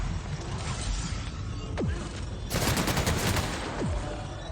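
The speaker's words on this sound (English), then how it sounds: "Who is shooting at me?" Gunfire in The Outer Worlds on PS4 Pro: a rapid burst of shots cuts in midway over constant game ambience, with creaking mechanical sweeps before and after.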